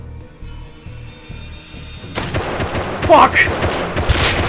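A burst of gunfire in the game Rust, with crossbow shots, erupts loud and dense after a quieter stretch, while someone shouts over it.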